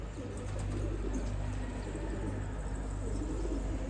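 Captive pigeons coo softly in a loft, a low steady murmur of calls over constant background noise, with no one speaking.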